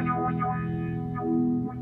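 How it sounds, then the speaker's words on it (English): A synthesizer tone with a filter swept by a Hot Hand motion sensor, its harmonics rising and falling in slow, wavering swells, heavily processed with a chorus-like shimmer. "you can hear the filter moving depending on how I have the position of my hand"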